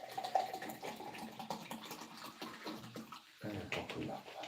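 Water runs from a tap or is poured into a glass, a steady faint splashing trickle that briefly dips near the end and then resumes.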